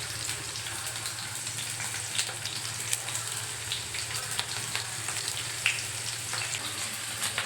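Onions frying in masala with coconut and cumin, a steady, moderate sizzle with scattered small pops and occasional stirring ticks, heard close and without voices.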